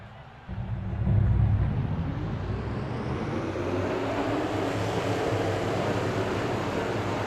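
A field of race cars fires up at Daytona in a racing video game, a dense engine roar rising after a half-second and holding as a continuous broad drone.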